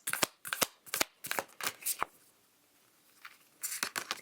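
Tarot cards being shuffled and drawn by hand, a series of quick, crisp riffling flicks in close succession, pausing briefly before another cluster of snappy card sounds.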